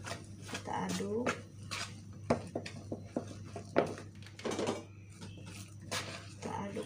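Flour dough mixed with hot water being stirred in a bowl, with irregular scraping knocks and clinks of utensil against the container, close by, while a person talks over it.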